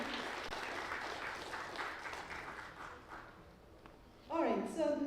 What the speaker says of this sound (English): please give a big round of applause to Ravi Polishetty